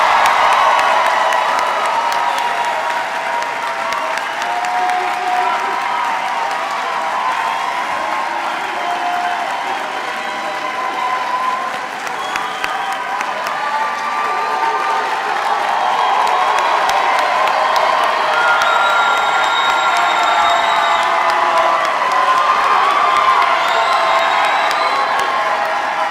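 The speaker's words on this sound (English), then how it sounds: "I think we need one more round of applause for our class of" A large crowd at a high school graduation ceremony applauds and cheers for the class of 2024, with loud continuous clapping, whoops and shouts sustained throughout.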